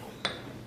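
During dishwashing in a home kitchen, one faint, sharp clink of dishes or cutlery rings out once against quiet background noise.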